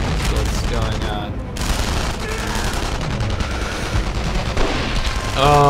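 Heavy 88mm artillery shells falling in the World War II shooter game Enemy Front, a dense, loud barrage of booms and gunfire rumbling continuously, with a voice talking over it.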